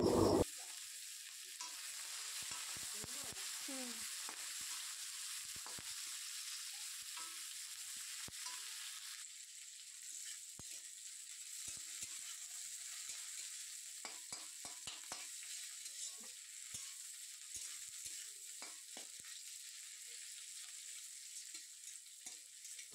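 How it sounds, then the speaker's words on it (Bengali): Chopped onions sizzle and fry steadily in a pan as the base for a fish-head muri ghonto, a continuous hiss with occasional stirring scrapes and clinks, close and alone without talk. "তো পেঁয়াজগুলো খুব ভালোভাবে ভাজা ভাজা করে নেব।"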